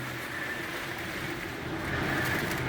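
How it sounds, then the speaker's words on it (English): Strong storm wind blows against the windows of a small house in the Dominican Republic, a steady broadband rushing roar that swells slightly toward the end, close and continuous with no talking. "That's the force of the wind"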